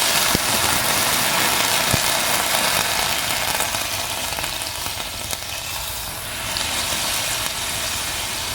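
A loud, steady sizzle of water hitting a hot pan while aloo kulcha cooks, broad hissing that holds evenly throughout with a few faint clicks.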